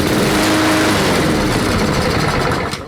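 A small Honda engine fitted with an aftermarket carburetor runs loudly and steadily up close, a continuous buzzing, rattling drone that dips slightly near the end.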